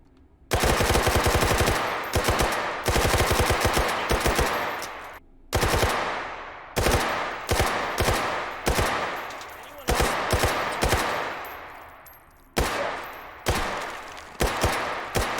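SMG fire in the H3VR virtual reality game, loud rapid automatic bursts repeated several times with short gaps between volleys.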